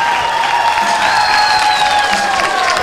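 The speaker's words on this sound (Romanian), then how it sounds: "Dacă vă place, aplaudați și faceți puțină gălăgie." Audience applause and cheering fill the space continuously and loudly, with crowd noise and a few whoops from a live comedy-style show, steady throughout with no clear speech.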